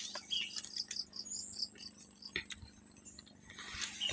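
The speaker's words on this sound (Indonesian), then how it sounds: "Kedengarnya di sini banyak burung." Many birds chirp inside a cave, giving thin high chirps and tweets scattered through the clip at a moderate distance over a faint background.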